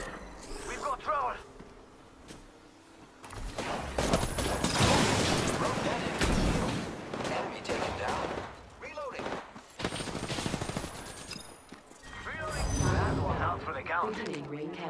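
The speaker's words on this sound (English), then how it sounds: "They're shooting at the front." Dense bursts of automatic gunfire in an Apex Legends ranked match rattle close and loud, broken by brief lulls, with voices talking over the shooting.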